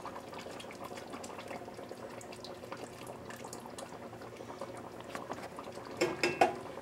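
Chicken simmering in tomato sauce in a pot, a steady low bubbling and popping that runs throughout, with a few louder bursts near the end.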